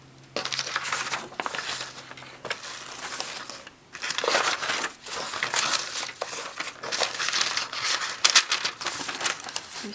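Tea-dyed paper is handled and crinkled up close in loud, continuous rustling and crackling bursts with brief pauses between them.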